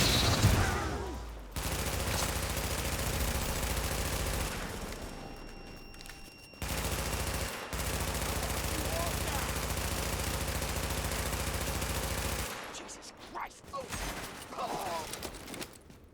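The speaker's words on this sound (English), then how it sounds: "I didn't mean to flashbang us" A flashbang grenade going off in The Division, leaving a long, harsh wash of noise with steady ringing tones that cuts out briefly a few times before fading into quieter, choppy game sound.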